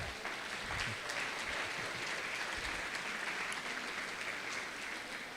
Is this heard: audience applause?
yes